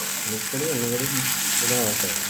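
Egg dish with oyster sauce sizzling in a hot pan as it is stirred, a steady frying hiss throughout with a person speaking over it.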